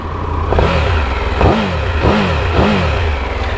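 A 2022 Triumph Tiger 1200 GT Pro motorcycle engine idles and then revs up three times in close succession, each blip rising and falling back, loud and close with no talking.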